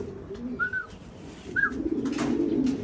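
Pigeons coo in two short calls against an outdoor background hum, followed by a rising rumble as the flock comes down, with light chirps mixed in.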